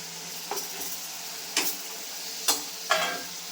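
Onion and tomato gravy fries in oil in a home kitchen, a soft steady sizzle broken by four sharp scraping stirs of a spoon against the pan.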